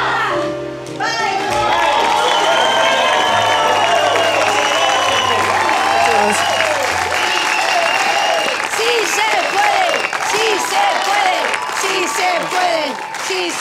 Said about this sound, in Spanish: vamos a darle otro aplauso muy fuerte a Walter